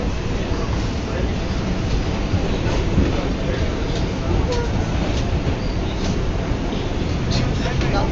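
A New York City subway train rumbles along with a steady, noisy roar and faint clicks and rattles, while people talk over the ride.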